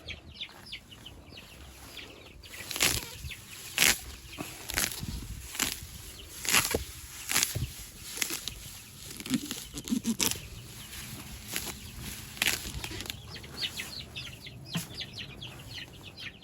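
Backyard barred rock and olive egger chickens cluck and burst into repeated bouts of wing flapping, several sharp flurries close by against a soft, busy background.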